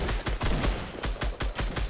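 Rapid bursts of automatic gunfire from a Fortnite solo match, loud and close, firing in quick repeated volleys with short gaps between them, with no talking over it.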